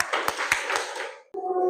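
A classroom of students claps hands together in a counted pattern, several sharp claps in a row, followed by a brief tonal sound.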